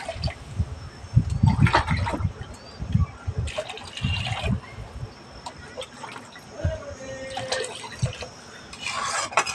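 About two and a half mugs of water poured into a pot of lentils mixed with turmeric and oil, with splashing and trickling in uneven bursts, close by, over a faint background hum.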